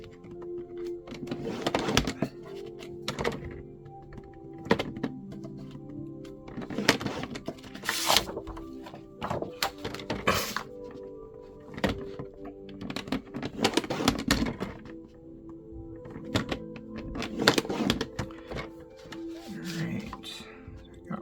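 Paper being scored for a Victorian adventure-club junk journal folio: a series of sharp scraping strokes and taps repeat every couple of seconds, close and moderately loud, with brief handling clatter between them.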